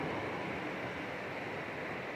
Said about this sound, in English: You kind of see the waterfall there.